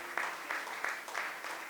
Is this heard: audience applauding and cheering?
yes